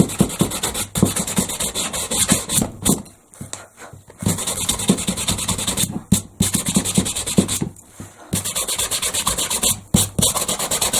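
Something scrubs hard against a glass bowl to rub off its finish, in quick irregular rasping strokes broken by short pauses. The scrubbing is close and fairly loud, with no speech.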